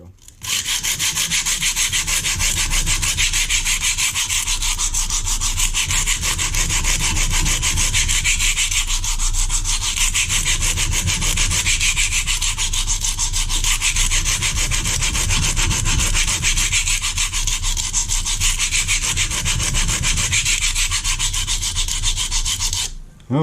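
A kitchen knife is sharpened outdoors in a backyard, rubbing in continuous rapid strokes against a sharpening surface with a loud, steady rasping scrape and slight rhythmic swells, with no talking.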